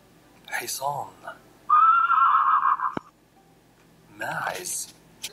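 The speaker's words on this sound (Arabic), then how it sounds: "حصان" A horse lets out a single loud, quavering neigh, set between short bursts of speech before and after.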